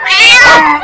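A single cat gives a close, loud, drawn-out meow with a wavering pitch, sounding for just under a second on its own.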